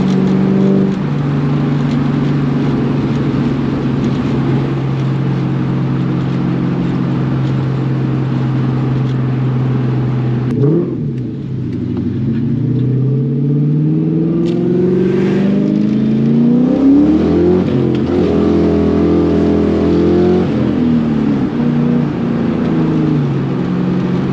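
A Ford Mustang engine drones loudly from inside the car with the windows down on a cold day, briefly drops off at a gear change, then climbs again through rising revs.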